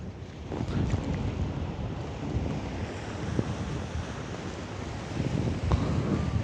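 Strong morning wind by the sea in Taipei roars steadily into the microphone with broadband rumbling gusts, mixed with a wash of surf, continuous and close with no voices.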